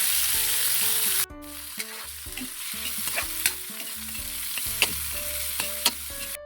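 Garlic, ginger, onion and tomato sauté in hot oil in a pan, a steady loud sizzle broken by repeated scrapes and knocks of a stirring utensil, close and with no talking.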